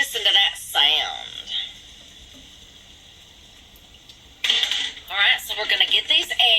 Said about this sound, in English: I better drop these in here before I scorch my butter. Ooh, listen to that sound.